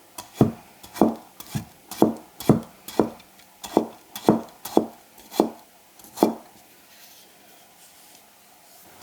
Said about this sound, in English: I've never seen this carrot dicing technique done before, but I absolutely love it and the sound.